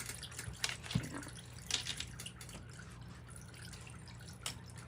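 Soft trickling and dripping water from a small tabletop water fountain with rocks, a faint continuous flow with a few brighter drips close by.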